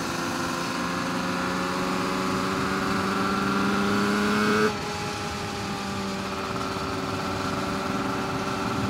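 A Barry Sheene Suzuki RG500 racing motorcycle circulates at Cadwell Park on a sunny day, its engine a steady droning whine heard continuously, shifting pitch slightly midway, with no talking.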